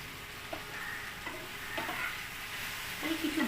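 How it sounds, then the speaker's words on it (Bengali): Oil sizzles steadily in a pan at close range, with a few soft stirring scrapes and clinks breaking through the hiss and a slightly louder flurry near the end. "দিয়ে দিলাম সামান্য একটু তেল।"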